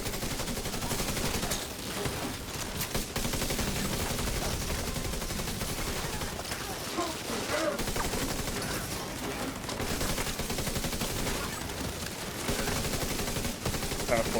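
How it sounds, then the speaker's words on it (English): Sustained cover-fire gunshots in The Division, a nearly continuous, loud barrage of rapid automatic fire over a long stretch, with only short breaks between bursts. "And I'm just cover firing like crazy"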